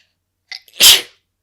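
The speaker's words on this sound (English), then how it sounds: "And I never just sneeze once." A single person gives one sharp, close sneeze. A quick inhaled catch leads into an explosive burst, with silence before and after.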